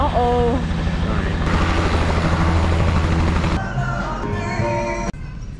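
A helicopter roars loudly and steadily close by in Cairns, its engine and rotor noise continuous before shifting and fading as it moves off, with people's voices mixed in.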